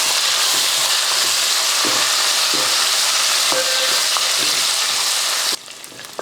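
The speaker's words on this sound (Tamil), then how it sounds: "புதினா மல்லித்தலை ரெண்டும் சேர்ந்து போட்டுருங்க அதையும் வதக்கி விட்ருவோம்" Mint and coriander leaves sauté in an aluminium biryani pot, a loud steady sizzle with occasional stirring scrapes that cuts off abruptly near the end.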